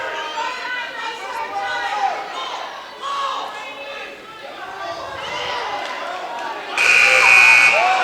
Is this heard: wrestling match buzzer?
yes